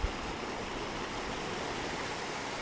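Waterfalls on the river in Lathkill Dale in the Peak District give a steady, broad rush of falling water, close and continuous with no other sounds.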